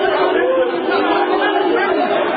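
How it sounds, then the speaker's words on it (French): Supporters boo and jeer inside a meeting hall during a football club's general assembly, a loud, continuous wall of crowd noise with no pauses. "sous les huées des supporters"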